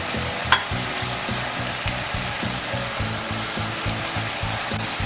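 Spices and crushed kasuri methi fry in hot oil with tomatoes, a steady close sizzle and bubble with faint stirring, and no voice over it.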